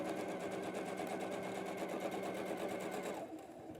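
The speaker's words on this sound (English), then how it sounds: "I'll go ahead and sew another set of shape 2 and shape 8." A sewing machine runs steadily at speed, chain-piecing quilt shapes together, its fast even needle rhythm close and loud before slowing and stopping near the end.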